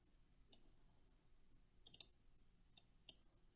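A computer mouse clicking through software results menus gives a few crisp, faint clicks, one single, then a quick cluster of three, then two more spaced apart, over a quiet background with no talk.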